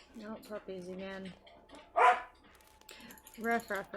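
A dog barks in a Nancy Drew video game, a few sharp barks among bursts of speech and a voice playfully imitating barking.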